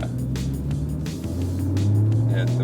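A Porsche sports car engine hums and rumbles steadily from inside the cabin, its low drone swelling slightly as the car accelerates.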